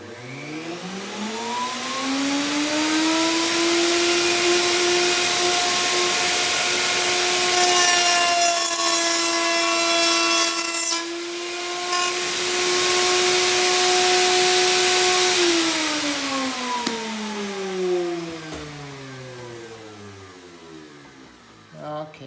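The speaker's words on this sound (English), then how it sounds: "we're gonna turn on the router and we're gonna do that." Router spinning up, cutting sockets in wood for drawer construction, then winding down; a loud steady high whine with chattery cutting noise through the middle before the motor pitch slowly falls away.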